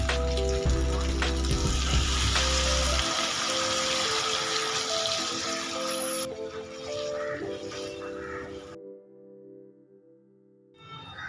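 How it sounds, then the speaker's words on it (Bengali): Hot water pours into a cauliflower and potato curry of spiced, half-cooked potatoes, a gushing splash that settles into a bubbling simmer, then fades out near the end. "এইবারের মধ্যে দিয়ে দেবো পরিমাণ মতো গরম জল।"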